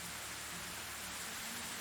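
Steady rain falls in the medieval survival game Medieval Dynasty, producing an even, continuous hiss with no breaks and no voices.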